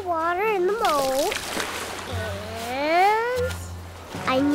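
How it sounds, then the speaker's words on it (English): In a cartoon beach scene, water is poured into a sandcastle moat with a brief splashing gush, surrounded by a child's lively sing-song speaking that dominates the moment. "So we pour water in the moat"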